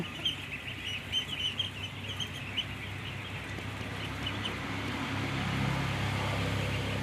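A flock of farm ducks quacks in a hot-weather barnyard, the calls faint and somewhat distant, coming in loose bursts early on over a steady low background hum.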